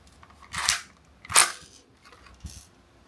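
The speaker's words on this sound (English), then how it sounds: "Magazine in, and let's see what this gun can do." A red Desert Eagle toy BB gun fires pellets at close range, giving two sharp snappy cracks followed by a fainter third click, each short and crisp against near silence.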